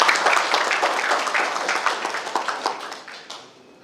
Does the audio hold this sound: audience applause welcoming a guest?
yes